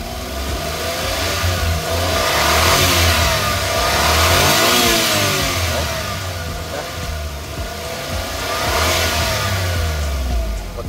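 The engine of a Suzuki DA17W 4x2 automatic low-roof van revs loud and close in repeated rising and falling swells over a steady idle, with no talking.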